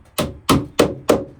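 A wooden-handled hammer drives a square wooden peg into a round hole with four sharp, evenly spaced knocks of wood on wood, close and loud.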